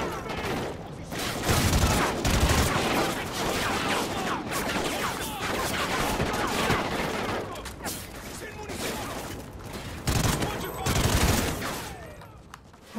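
Gunfire in the Call of Duty: Ghosts video game, dense rapid bursts of automatic weapons and scattered shots rattling almost continuously with booms mixed in, and people talking over the battle.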